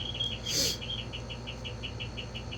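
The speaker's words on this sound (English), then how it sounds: "Pardon my frogs chirping in the background." Frogs chirping outdoors in the background, a regular series of short high pulses repeating about four times a second, faint and steady, with a brief louder rustle near the start.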